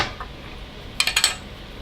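Lid of a small glue container opened at a fly-tying bench, a brief cluster of four light plastic clicks in quick succession, close and fairly quiet.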